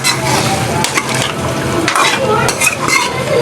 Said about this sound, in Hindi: हमने जो है अपने कढ़ाई के अंदर गोश्त को डाल दिया।